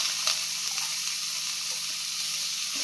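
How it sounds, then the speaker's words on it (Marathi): Garlic-chili paste with grated coconut stir-frying in oil for a kartule vegetable dish, a soft continuous sizzle close by with faint occasional scrapes, no talking. "ते चांगले परतून घेतलेले आहे. हे बघा, परतत आहे."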